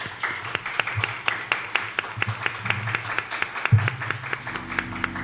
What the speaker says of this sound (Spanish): vamos a darle un fuerte aplauso a nuestros colegas